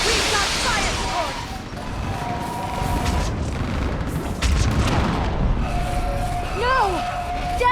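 Explosive artillery fire support in the Mass Effect 3 battle on Thessia, heavy booming blasts over a dense roar of combat, with voices shouting over the chaos.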